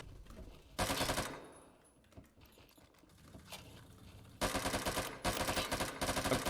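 AN-94 rifle fire in a first-person shooter game, two loud bursts of rapid automatic shots with a quieter stretch of game noise between them, no talking.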